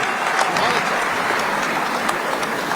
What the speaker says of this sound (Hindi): आपकी तालियां थोड़ी कम है, और ज्यादा तालियों के साथ स्वागत कीजिए